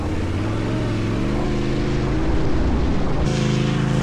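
Motorcycle engine accelerating hard in first gear on an adventure trip in Sardinia, a loud, steady rising drone with strong harmonic rumble that climbs in pitch and brightens near the end, no voices over it.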